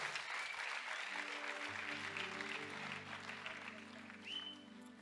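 Church congregation applauding during a worship service, a dense burst of clapping from many people that swells and then thins out, with a voice and music tones under it.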